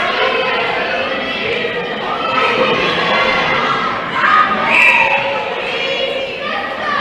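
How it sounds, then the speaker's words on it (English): Crowd screaming and cheering at an indoor netball match in South Africa, a steady wash of many voices rising in a louder burst near the end, with indistinct chatter mixed in. "A lot of easy screams from the crowds."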